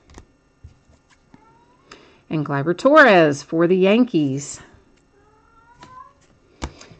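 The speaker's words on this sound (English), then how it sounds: "you can hear my little cat down there chiming in his 2 cents worth" A small male house cat meows loudly nearby in a few drawn-out, rising and falling cries between stretches of a man's speech.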